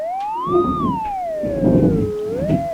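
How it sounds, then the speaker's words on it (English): A pure electronic tone glides up and down smoothly like a slide whistle, loud and clear, over soft rumbling noise. "Sounds like almost like a slide whistle there."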